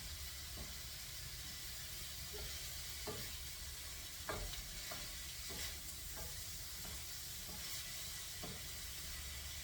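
Onions cook in a hot pan for a steak sandwich, giving a continuous low sizzle and hiss with scattered soft stirring taps, faint and steady throughout.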